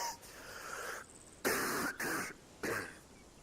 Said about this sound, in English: I'm coughing along